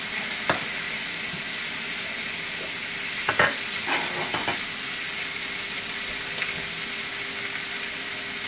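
Steak sizzles steadily in a hot pan, a continuous bright frying hiss with a few soft clinks and scrapes of handling scattered through it.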